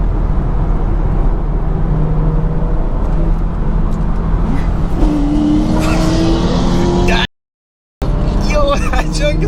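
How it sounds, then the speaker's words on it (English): Corvette Z06 and a BMW 340i with a B58 engine and downpipe accelerating hard, a loud continuous engine roar heard from inside the car with wind and road noise, a short dropout near the end, people talking over it. "Yo, that thing is fast. I'm pretty sure it's Z06."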